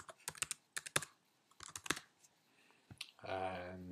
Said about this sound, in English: Start typing the name of some of your modules.